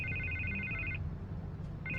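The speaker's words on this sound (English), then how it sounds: "I can't get the phone to stop ringing." A telephone rings in the Batman: The Telltale Series game with a steady electronic trill, two bursts separated by a pause, over a low rumbling ambient backdrop, without speech.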